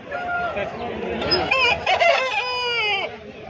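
A rooster crows loudly and close up at a Sunday poultry market in Pileru, a long strained call, with other hens clucking and faint voices around it.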